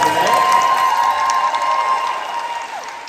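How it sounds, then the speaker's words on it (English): Applause at a sports awards banquet, a broad wash of clapping and crowd noise over a steady hum that gradually softens toward the end. "round of applause for that"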